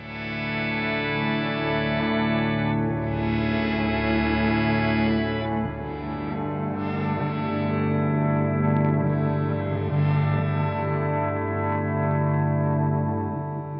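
Sustained distorted electric guitar chords through stacked fuzz pedals, a fuzzy, saturated tone washed in reverb and echo, playing steadily without any voices.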